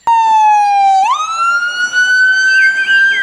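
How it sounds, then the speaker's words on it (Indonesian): A toy ambulance's electronic siren sounds loud and close, a steady tone that jumps up in pitch partway through and holds a rising wail, alone without talk. "kita menemukan mobil ambulans teman-teman"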